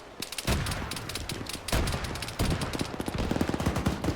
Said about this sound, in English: there goes the Bradley just shelling them